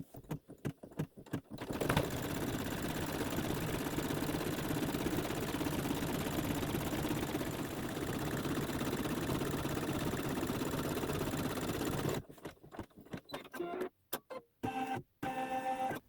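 A sewing machine runs a satin stitch across a quilt block. A few short stuttering bursts give way to a steady, close whirring run of about ten seconds, then it stops and starts again in brief spurts.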